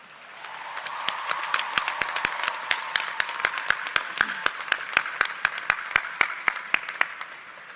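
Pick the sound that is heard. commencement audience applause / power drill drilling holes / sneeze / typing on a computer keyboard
commencement audience applause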